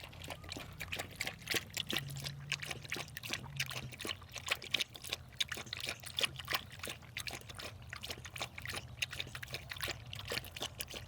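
Water pours and trickles steadily into a dog's bowl for a thirsty puppy after a game of fetch, a continuous close splashing stream lasting several seconds with no talking.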